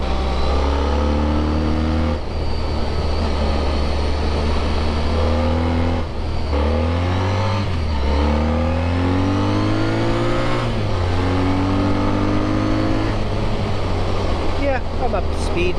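A Honda ST1300 motorcycle accelerates hard up through the gears, its engine note climbing loud and close with sharp dips at each shift, and a rider's voice comes through over the roar.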